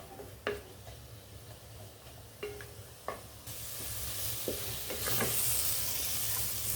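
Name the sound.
spices and masala frying in a pan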